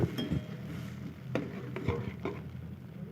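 A utensil stirs vegetable Manchurian coated in cornflour batter in a pan, with a few scattered scraping knocks and light clinks against the metal over low sizzling.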